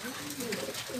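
Racing pigeons give soft, low cooing calls, faint and brief, against a steady background hum.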